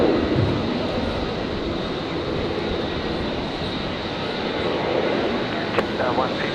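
A Qantas Boeing Dreamliner airliner at Brisbane airport gives a steady, broad engine roar that holds at an even, loud level throughout.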